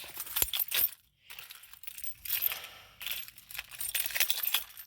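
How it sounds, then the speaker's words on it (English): Car keys jangle and clink in bursts of bright metallic rattling, with a short pause after the first second, close by and with no talking. "There's her keys."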